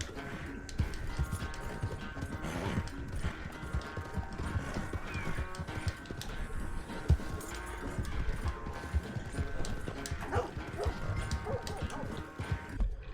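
Horse hooves clip-clop steadily while riding in Red Dead Redemption 2, a continuous galloping rhythm under game ambience and faint background voices.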